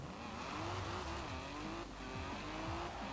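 A 1984 Opel Manta 400 rally car in Forza Horizon 4 drives at a steady, moderate engine note, its pitch stepping up and dipping again with gear shifts, under faint tire noise and rumble.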